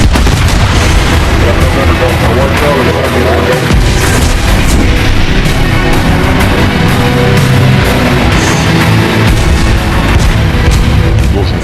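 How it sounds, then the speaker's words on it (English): Heavy gunfire from an Iowa-class battleship's guns in battle, a loud, dense, continuous barrage of booms and blasts that fills the whole stretch without pause. "And then comes the battle. The shooting starts."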